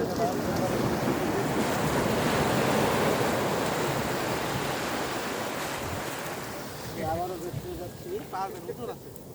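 Big sea waves break on the shore in a loud, continuous roar mixed with wind buffeting the microphone, easing slightly toward the end, where a voice briefly speaks.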